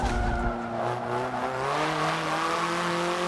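Korean hot hatch in Forza Motorsport 7 revs hard, its engine note climbing in a raspy, high-pitched buzz with tire squeal mixed in, loud and close throughout.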